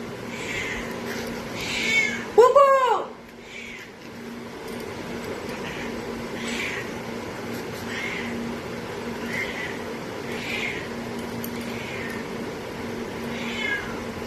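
A house cat with a cold meows indoors: one loud, wavering cry near the start, then a series of softer, evenly spaced calls against a steady low hum.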